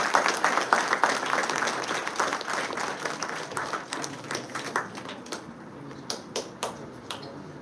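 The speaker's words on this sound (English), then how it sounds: "Please clap for her." An audience at a school debate competition applauds a prize winner, dense clapping at first that gradually thins into scattered individual claps and stops.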